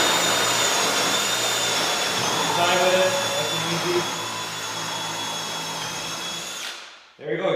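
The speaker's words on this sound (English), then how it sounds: "try and keep your drill as straight as you can" A power drill bores a hole with steady motor whine for the drill-bit hole when installing an under-mount drop-down davit, running continuously for several seconds before stopping, while someone speaks briefly over it.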